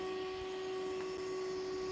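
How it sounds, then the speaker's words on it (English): A vacuum cleaner runs steadily at a low, distant level, a constant whining hum with hiss, inside a shop building tiny homes. "Or you can hear the vacuum."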